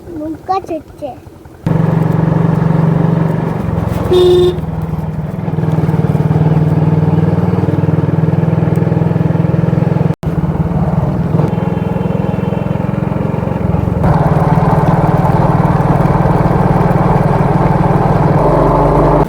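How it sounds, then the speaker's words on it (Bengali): A motor boat's engine runs steadily on open water on the way to a deer park, a loud, close, constant droning rumble that continues for nearly twenty seconds while someone talks over it. "নৌকা চলছে এখানে"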